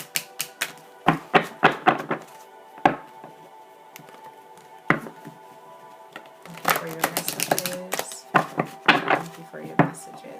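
Sharp papery taps and riffling clicks of tarot cards being shuffled come in scattered clusters, close by, with a dense run of rapid flicks near the end.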